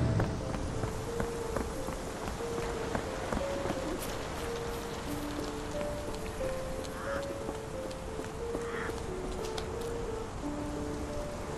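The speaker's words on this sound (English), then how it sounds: "This dreary rain is making a miserable day even..." Steady rainfall in a Sherlock Holmes The Awakened game scene, a dense even hiss of drops that runs unbroken throughout, with faint tonal game music underneath and scattered sharper drip ticks.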